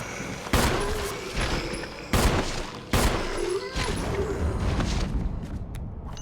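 Gunshots in the Resident Evil 1 game, a few loud sharp reports spaced about a second apart over a busy background, with someone talking between the shots.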